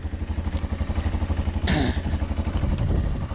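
A moderately light motorcycle's engine idles with a steady low throb, a brief clattering rise partway through as it shifts or revs, close and loud throughout.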